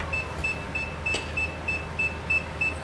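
FPV goggles in bind mode, used with a Caddx Vista on a TransTec Beetle, give a faint, steady series of short high electronic beeps, evenly spaced at about three per second, over a low hum of background noise.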